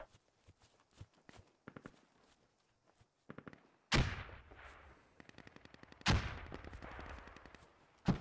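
Gunfire and a grenade in the video game Squad: scattered distant shots and footsteps build to two loud sharp blasts followed by rattling bursts of automatic fire, no talk.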